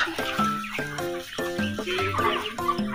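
Chickens cluck in a series of short, repeated calls, some overlapping, over a steady busy background at moderate distance.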